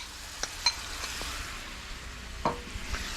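Garlic sauce sizzles and bubbles in a pan, a soft steady hiss broken by a few light clinks and scrapes of stirring, heard up close with no talking.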